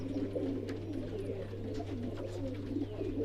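Kabootar bazi pigeons resting after a flight coo in a soft, continuous murmur. A steady low hum runs underneath, and faint chirps sound now and then.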